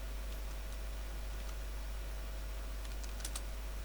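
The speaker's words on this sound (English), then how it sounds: "I am typing one number" Light keystrokes on a computer keyboard while working in Blender: a few scattered, quiet clicks over a steady hum, with a brief cluster of taps near the end.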